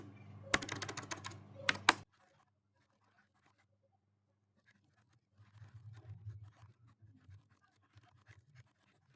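Rapid clattering keystrokes on a computer keyboard while code is typed, a dense burst of close clicks in the first two seconds, then near silence and a softer, scattered patter of keys later on.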